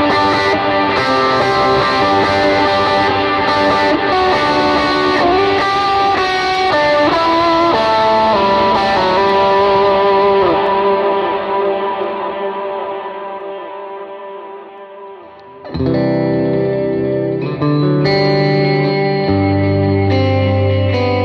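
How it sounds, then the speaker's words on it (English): Electric guitar lead running through a praise-and-worship pedalboard with dual delay and black hole reverb, giving a big, wet, ambient sound of sustained notes washing into long echoing tails, fading out and then swelling back in loud. "P&W lead is gonna kick on the dual delay and the big black hole, not the big black hole, but the black hole reverb."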